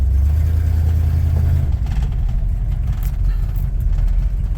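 A 1979 Ford F150 pickup, freshly repaired differential, rumbles off on a drive, a loud low engine drone that eases into steady cruising road noise.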